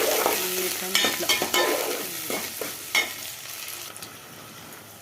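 Curry leaves frying in hot oil in a pan crackle and sizzle loudly at first, with a few stirring scrapes, before settling into a softer, steady hiss; one word is spoken near the start.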